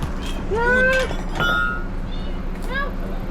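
A cat meows several times, drawn-out rising-falling calls close by, with a short pause before a final meow, over a steady low background hum.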